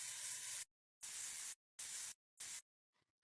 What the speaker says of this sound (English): I want to play with this color changing magical spray can